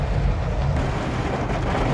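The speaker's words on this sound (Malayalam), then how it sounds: "നല്ല മഴ കേട്ടോ ഗൈസ്" Heavy rain pours in a dense, constant roar, loud and close, with no breaks and no voices.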